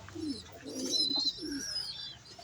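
Soft, low coos of fancy pigeons repeating close by, mingled with a few higher chirps from other birds in the background.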